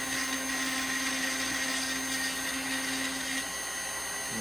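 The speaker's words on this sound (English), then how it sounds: "listen to how quiet these Proxxon machines are" Proxxon engraving tool running steadily with a quiet, continuous whine and a faint hum throughout, its pitch dropping slightly near the end as it spins down, with no talking.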